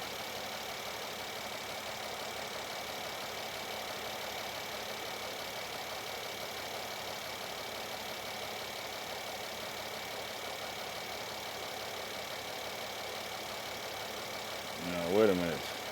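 A Mercedes-Benz GLS 450 with a failing crank sensor idles steadily after a long crank, its engine a low, even hum heard up close, with a brief knock or clunk near the end.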